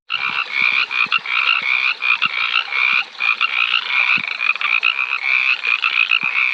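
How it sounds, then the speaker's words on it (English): A dense, loud chorus of arroyo toads trilling and croaking continuously in spring wilderness, overlapping calls close by, with a few soft clicks beneath. "This toad here is the arroyo toad"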